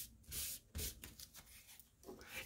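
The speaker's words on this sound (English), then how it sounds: "I'm going to give this cloth again a spray of the pink." Short hissing bursts of pink spray paint onto cloth over a pizza box, mixed with soft rubbing and brushing noises, close and quiet, in an irregular rhythm.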